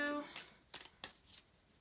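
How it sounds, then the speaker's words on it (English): Oracle cards being shuffled by hand, giving a few quick papery riffling bursts in a short, close sequence. "I'll shuffle one more time."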